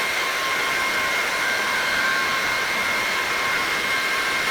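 A Levoit 200 or 300 cordless vacuum cleaner runs on a floor with a loud, steady high-pitched motor whine and airy rush, constant and close with no talking.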